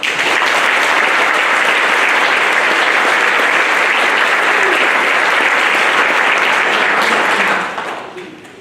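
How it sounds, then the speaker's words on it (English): An audience gives sustained, loud applause for senior members of a school band at a concert, a dense wash of clapping that continues steadily before tapering off at the end. "Give them a round of applause."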